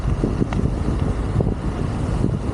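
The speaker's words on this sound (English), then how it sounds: "It's windy now." Wind buffets the microphone while riding a Wolf King GT Pro electric scooter up toward a mountain, making a continuous low rumbling roar with gusty surges and no voices.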